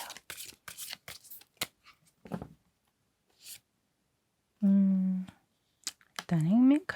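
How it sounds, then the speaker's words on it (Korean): Tarot cards are shuffled for an advice card draw in short, crisp riffling bursts close up, separated by pauses, with someone talking around them. "여러분을 위한 조언 카드를 좀 뽑아보도록 할게요"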